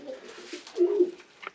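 Pigeon cooing softly at a nest with growing chicks, a few low murmuring coos close by, fairly quiet, with no talk.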